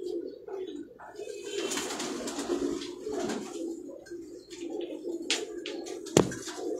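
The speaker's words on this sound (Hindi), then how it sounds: "ये कुछ कबूतर हैं इनके, जो लगे हुए कबूतर हैं इनके बाजियों में" Pigeons kept for flying competitions coo in soft, continuous murmuring on a rooftop in Kemari, Karachi, with faint bird chirps and a brief sharp knock near the end.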